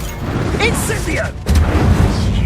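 An Incendio fire spell cast in Hogwarts Legacy, a loud whooshing burst of flame and boom that erupts midway, with a voice shouting just before it.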